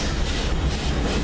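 Baldwin No. 26 train rolls steadily along the rails with a dense, continuous rumble and faint clatter, heard close and fairly loud with no voices.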